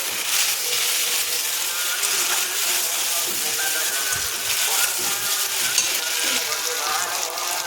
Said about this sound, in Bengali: এবার দিয়ে দেব বেটে রাখা টমেটো।